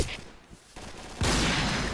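A dense burst of rapid game gunfire erupts after a quieter stretch, loud and continuous, with a rattling automatic quality.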